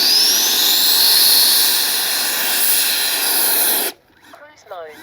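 A Freewing 80mm F-22 RC jet's electric ducted fan runs in reverse thrust after landing, a loud, steady, high-pitched whine with airy hiss that cuts off abruptly, after which a voice speaks.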